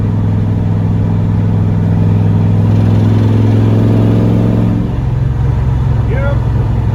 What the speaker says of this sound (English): Definitely sounds like a rod bearing.